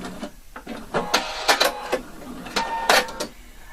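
A sewing machine stitches a placket seam in short, uneven bursts of rapid whirring stitches separated by brief pauses, close and fairly loud.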